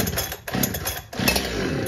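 A chainsaw engine, either a Stihl 400C or a Holzfforma 372 clone, warms up after sitting unused for weeks. It idles close and loud with a fluttering rhythm and short dips in the engine note.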